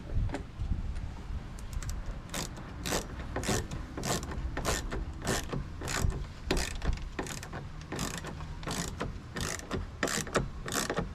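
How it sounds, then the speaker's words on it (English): Screws are driven into a shelf bracket during a camper van build, with a steady run of sharp ratcheting clicks repeating about once a second, close and fairly quiet, with no talking. "Tighten that down, run some screws up in through here."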